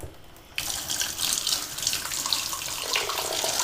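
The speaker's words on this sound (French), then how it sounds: "on sort le filtre et on nettoie à l'eau le filtre quand il y aurait des impuretés" A sous-vide immersion circulator's filter being rinsed under a kitchen tap: after a quiet moment the faucet bursts on and runs steadily, water spattering and hissing against the part close by.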